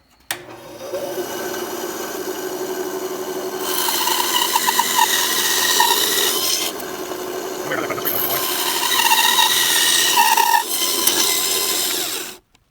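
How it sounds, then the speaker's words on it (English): A bandsaw cuts through wooden leaf-shaped coasters in long, steady rasping passes with brief pauses between cuts. The sound is loud and close, and the motor winds down at the end. "I'm going to try to run this down the bandsaw, see if I can get them back."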